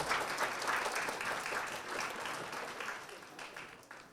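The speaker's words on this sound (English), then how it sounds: "please give a round of applause for Gautam Prakash." Audience applause at a book launch and thank-you dinner, a steady round of clapping from a seated crowd that holds evenly and fades slightly near the end.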